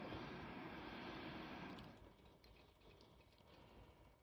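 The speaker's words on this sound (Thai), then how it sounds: "เสียงพัดลมขึ้นแล้ว" A desktop PC cooling fan whirs as a steady, airy hiss, loud for the first couple of seconds and then dropping to a softer, continuing hum.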